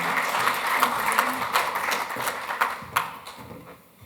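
Sustained audience applause at a legal conference address, many hands clapping steadily and loudly before fading out near the end.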